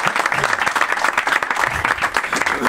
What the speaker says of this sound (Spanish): Un aplauso para David desde Sonseca.